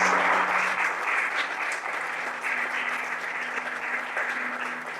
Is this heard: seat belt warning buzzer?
no